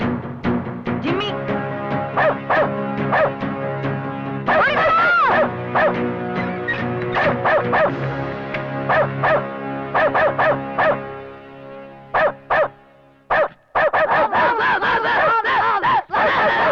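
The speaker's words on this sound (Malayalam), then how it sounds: "ഞങ്ങൾ പട്ടം എടുക്കാൻ വന്നപ്പോ അതെന്നാ പട്ടി അയച്ചു വിട്ടു" A dog barks and yips loudly in a comedy film scene, a rapid run of sharp barks and whimpering yelps with shouting and music mixed in, breaking off near the end.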